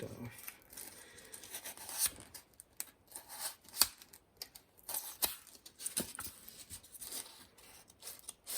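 Scissors cut through diorama material for a rock-cut road scene, producing a quiet series of irregular snips, rustles and crisp clicks close to the microphone.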